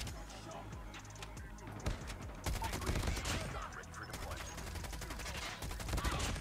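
Gunfire in the mobile shooter Call of Duty: Mobile during a spawn-trapped match, with bursts of automatic shots and scattered single cracks, some muffled through walls, continuing dense and steady under game noise.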